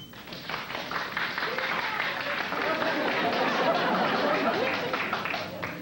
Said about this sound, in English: All those in favor of the ban on the van, please applaud.